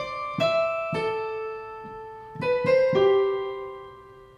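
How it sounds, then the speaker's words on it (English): Keyboard glockenspiel patch giving bright bell-like notes: a handful of struck tones with ringing decays, some overlapping near the end, played alone with no talk. "we're adding what we call a glockenspiel, and that's basically a bell sound"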